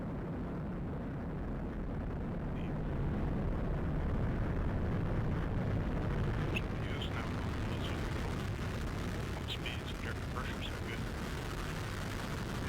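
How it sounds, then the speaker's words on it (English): An Atlas V rocket with RD-180 engines ignites and lifts off at night carrying a Cygnus cargo craft, a dense, sustained roaring rumble that builds and holds, with faint crackles and voices talking over it. "Ignition and liftoff of the Atlas V rocket with Cygnus"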